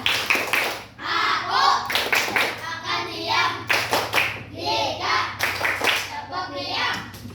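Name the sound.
class doing the 'tepuk diam' clapping chant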